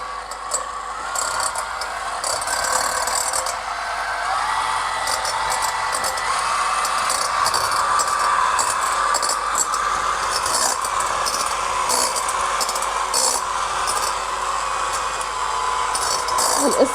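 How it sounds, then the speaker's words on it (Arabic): An electric mixer whips egg whites in a home kitchen, giving a steady whirring drone that holds throughout with slight flutter in pitch. "مش هتتضرب بشوكه زي ما احنا بنعمل البيض الاومليت، لا، هنعمله بمضرب"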